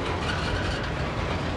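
A long Norfolk Southern freight train rolls past at Villa Rica, Georgia, producing a loud, continuous rumble with rhythmic rail clatter throughout the short clip.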